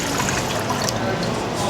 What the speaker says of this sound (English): we gotta put the water.